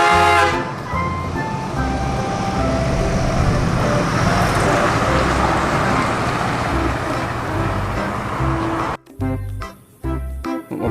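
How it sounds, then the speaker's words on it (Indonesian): Toy tronton truck playing recorded traffic noise with engine rumble and horn-like toots, a steady loud din for about nine seconds, then a few choppy bursts as it cuts out. "Mobil tronton."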